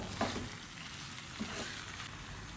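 Duck meat, prepared for an Indramayu-style spicy pedesan dish, sizzles softly in a pan while being stirred, with a steady low frying hiss and a couple of faint scraping knocks.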